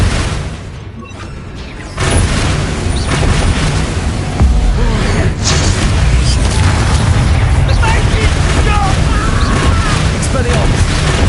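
An Expelliarmus disarming spell cast in the Hogwarts Legacy video game: loud, dense magical blasts and booming impacts roll on continuously, with a voice talking over the din.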